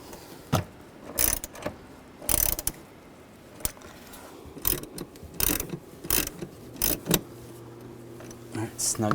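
A ratchet snugs the front seat bolts on a 2021-2023 Jeep Grand Cherokee L, sharp bursts of rapid clicking separated by short pauses, close and fairly loud, with some metallic clinks between.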